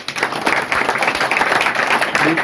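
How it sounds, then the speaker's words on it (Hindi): A crowd claps at a relief-material distribution gathering, producing brisk, loud, continuous applause with irregular bursts throughout the short stretch. "चाहता हूँ सभी लोग तालियां बजाएं।"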